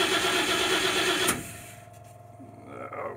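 An M29C Weasel engine cranks loudly and briefly, then drops to a low, quieter rumble that swells a little toward the end.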